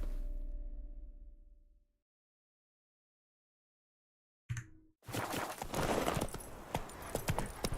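Hoofbeats of Roach, the horse in The Witcher 3, clatter in a quick galloping rhythm after a stretch of silence, close and fairly loud over game ambience.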